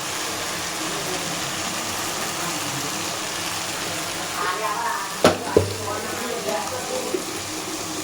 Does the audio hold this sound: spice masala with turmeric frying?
yes